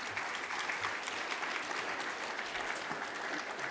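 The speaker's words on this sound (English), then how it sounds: "which they should be given a round of applause" Audience applause at a conference plenary session in Portland, a steady, dense clapping that fills the whole stretch at even loudness with no speech over it.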